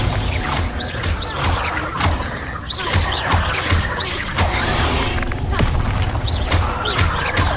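Fire spell blasts going off during combat in the video game Hogwarts Legacy, a rapid series of booming impacts and crashes with mechanical clatter, loud and continuous.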